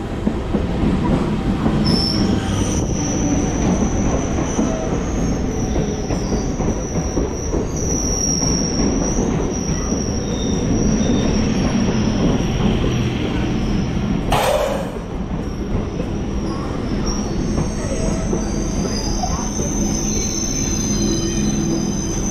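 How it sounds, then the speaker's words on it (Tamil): A train rolling in with a long, high squeal of wheels over a heavy rumbling clatter, loud and near, fading slightly at the end. "ஸோ ட்ரெயின் வந்துருச்சு இந்த ட்ரெயினாக தான் இருக்குன்னு நினைக்கிறேன்"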